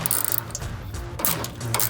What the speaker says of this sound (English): Now we got it loose, we should be able to use the ratcheting wrench.